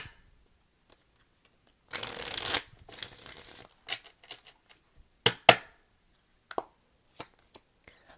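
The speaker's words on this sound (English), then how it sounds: "Do one more shuffle." A deck of cards riffles in two quick bursts, followed by scattered soft taps and clicks as the cards are squared up, close and alone.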